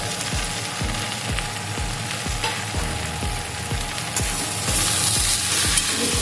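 Small fish and spices, turmeric and chili powder among them, fry in a pan in a steady loud sizzle, while a spoon scrapes and stirs in regular repeated strokes.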